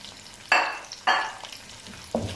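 Salt, chilli, cumin and black pepper fry with tomatoes for a mutton pulao. Three sharp bursts of sizzle and scraping rise out of a quiet pan hiss, each fading quickly.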